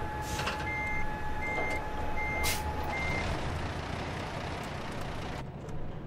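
Truck reversing in American Truck Simulator, a steady high alarm beeping in evenly spaced pulses over a low diesel rumble, with a brief air-brake hiss, no talking.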